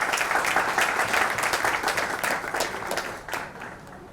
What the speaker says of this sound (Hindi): सुरेश भाई, जोरदार तालियां सुरेश भाई।